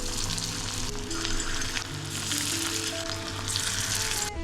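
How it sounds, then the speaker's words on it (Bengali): Marinated fish pakora coated in rice flour and cornflour crackles and sizzles intensely in a hot wok (kadai), a dense, close frying sound with faint tonal hums in the background. "অভিরার জন্য অল্প একটু ফিশ পাকোড়া ভেজে দিয়েছি"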